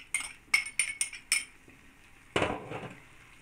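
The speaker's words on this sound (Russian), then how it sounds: "Перемешиваем." A spoon clinks sharply against a pot in quick metallic taps while it stirs fried onion, carrot and grated pickled cucumbers, followed by a louder scraping clatter, all close and with no talking.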